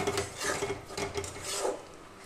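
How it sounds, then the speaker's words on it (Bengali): Peas mixed with chili paste are stirred in a pan, making repeated rasping scrapes of a spoon across the pan surface in a quick rhythm, close and fairly quiet. "মটরশুঁটিটার সাথে আমি লঙ্কা বাটাটাকে ভালো করে মিশিয়ে নিচ্ছি।"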